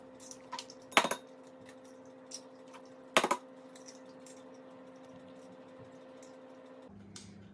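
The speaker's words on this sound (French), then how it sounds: "dans un saladier, je viens casser 2 œufs entiers et un blanc d'œuf" Two eggs and an extra egg white cracked into a salad bowl for a healthy quiche, two sharp cracking knocks about two seconds apart, close and clear over a steady background hum, no talking.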